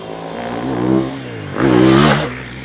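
A 2018 Yamaha WR450F dirt bike in fifth gear, its engine droning loud and close, with two rising surges of revs under rough trail riding.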